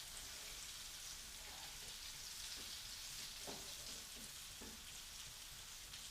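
Lentil burgers fry in a pan with a steady, close sizzle, sputtering continuously throughout with a few faint soft knocks underneath.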